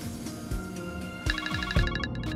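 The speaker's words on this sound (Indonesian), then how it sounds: "Mas, gue telepon Amira dulu ya." A phone rings steadily during an outgoing call, a repeating electronic ringback tone heard close and clear with no talk over it for a couple of seconds.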